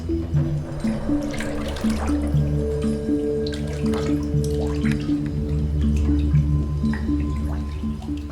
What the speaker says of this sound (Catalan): amb l'ajuda d'esta pala, anem a manejar la pasta i l'aigua